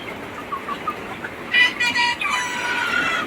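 Backyard chickens clucking at close range, a few short soft clucks giving way to a louder burst of overlapping calls from several birds.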